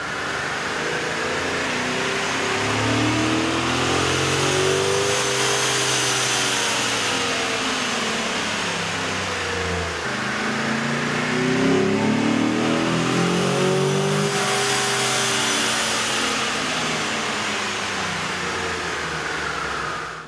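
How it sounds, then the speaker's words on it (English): A 2010-2012 Chevy Silverado or GMC Sierra 2500/3500 HD 6.0L truck engine revs up and down repeatedly on a dyno, loud and close, two long climbing surges with a steady mechanical roar throughout and no voices. "Here's a comparison of the sound of the truck on the dyno with the stock OEM system"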